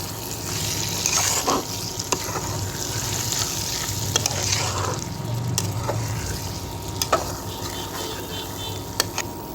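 Taki fish seasoned with salt is stirred in a frying pan: a steady, close sizzle of hot oil runs throughout, with occasional sharp clicks and scrapes of the spatula against the pan.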